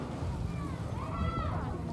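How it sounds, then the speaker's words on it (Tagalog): Wind gusts rumble steadily across the microphone at Playa Azul beach in Morong, Bataan, a low buffeting roar with faint water sloshing and soft voices underneath. "Medyo mahangin."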